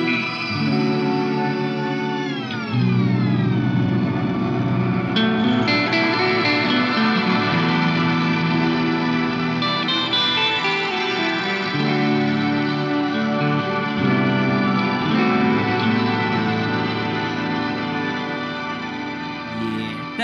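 Electric guitar played through an Earthquaker Devices Astral Destiny pedal produces swelling, shimmering washes of reverb and echo with rising pitch-shifted octaves, a continuous spacey drone sustaining alone at moderate level.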